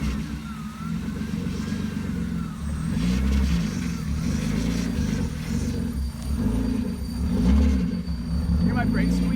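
A BMW E36 with a bad fuel pump runs just after starting, a loud, close low engine drone that swells and eases a little over a steady rough idle.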